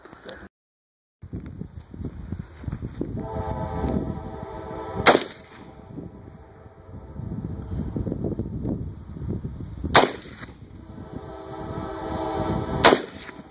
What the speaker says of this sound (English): this is the result of Austin there shooting the Bushmaster.